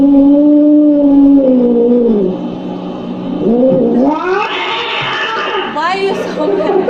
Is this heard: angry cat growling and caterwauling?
yes